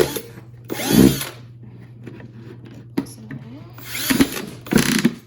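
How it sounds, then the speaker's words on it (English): A power drill whirs in short bursts, grinding through the bottom of a plastic bucket up close, with quiet scraping and handling sounds between the bursts. "I'm going to go ahead and drill through the bottom"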